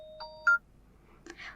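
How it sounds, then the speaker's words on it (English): A short ringtone preview on a Xiaomi Pad 8 Pro tablet: a few bright electronic beeps and tones, clean and close, followed by a brief softer chime. "select Ringtone, tap on All Ringtones and hit Apply next to the best one"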